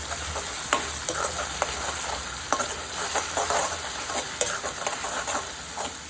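A tempering of oil with turmeric powder sizzles in a pan, a steady bright hiss with scattered sharp crackles and stirring taps spread through it, close and fairly loud with no talking.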